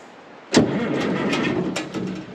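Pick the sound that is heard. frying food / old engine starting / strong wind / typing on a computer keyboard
old engine starting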